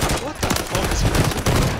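Dense rapid gunfire from a PlayStation shooter game, loud bursts of shots packed tightly together and filling the whole moment with little pause.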